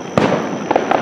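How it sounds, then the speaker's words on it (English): Fireworks at a midsummer lake beach party crackle and pop in distant bursts over a constant background hum, with several sharp reports spaced through the short span. "This is not a bad fireworks display."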